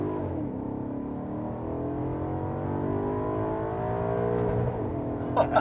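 A 2009 Maserati Quattroporte Sport GTS with a naturally aspirated engine and torque converter automatic revs up with a rising, throaty drone, then blips through downshifts, heard from inside the car.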